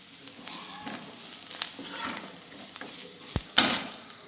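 Chopped onions fry with a pinch of salt in a pan, giving a soft, steady sizzle broken by scraping stirs and a couple of louder clinks near the end.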